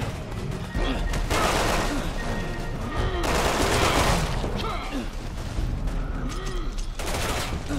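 Dense, sustained turret gunfire and explosions in the game Resident Evil 6 during a co-op Jake campaign, loud and continuous with rapid bursts throughout and brief lulls.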